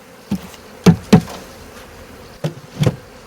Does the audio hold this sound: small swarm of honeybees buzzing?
yes